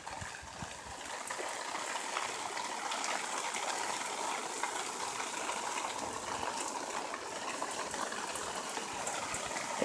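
Steady rain falls and patters continuously on a building site, a broad hiss with no break, heard up close.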